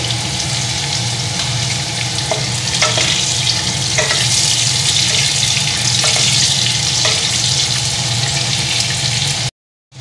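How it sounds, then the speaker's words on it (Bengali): Lightly salted potatoes fry in hot oil in a home-kitchen pan, a loud, steady sizzle with scattered crackles and occasional clinks of stirring, running continuously before cutting off abruptly near the end. "আলুটাকে একটু হালকা ভেজে নেব"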